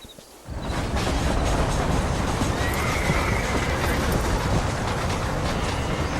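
A horse in the video game Red Dead Redemption whinnies amid a dense, loud rushing of galloping hooves and movement that surges in after a quiet start and holds steady.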